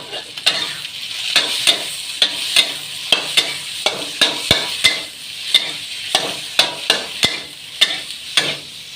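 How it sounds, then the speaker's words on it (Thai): Fermented shrimp is stir-fried with cooked egg in a pan for an Isan dish, with a spatula scraping and tossing in a steady, close rhythm of sharp strokes over a soft sizzle. No voices are heard. "เอากุ้งจอมลงไปผัดพี่น้อง"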